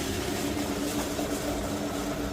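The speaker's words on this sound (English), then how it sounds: "Alright, so exhaust is blown up." A 2016 VW Tiguan engine runs with a blown exhaust, giving a steady, rough idle with a low hum and raspy noise, close and alone for a couple of seconds.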